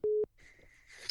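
An incoming-call beep sounds on a phone line: a short steady tone, then a pause and a softer, fainter tone at the end, with no one talking.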